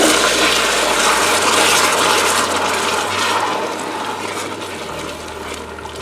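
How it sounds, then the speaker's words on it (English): Apple juice pours in a steady, loud rushing gush into a pan of melted butter and sugar, gradually easing off over several seconds with no talk. "we're going to pour in our apple juice."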